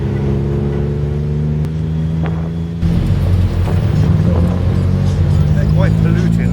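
A two-stroke tuk-tuk engine drones in Bangkok street traffic, a steady buzzing low hum that grows rougher and louder midway, with surrounding traffic noise and wind.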